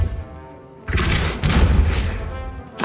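Depulso spell impacts in Hogwarts Legacy, loud thudding blasts that hit at intervals after a quiet opening, each a heavy booming thump that fades out, with a final hit right at the end.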